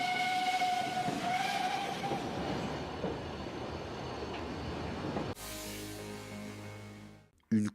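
The Trieux steam locomotive pulls into Carhaix station. A whistle shrieks early over a steady rolling rumble, then the train slows to a lower, quieter hum and stops with a final sharp clank.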